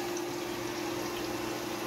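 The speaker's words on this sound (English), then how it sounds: "definitely will handle the sump pump" A household sump pump runs on power from an Ecoflow Delta Pro portable battery station, giving a steady, continuous whirring hum with rushing water, even and unbroken throughout.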